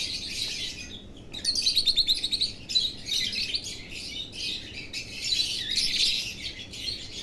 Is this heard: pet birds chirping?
yes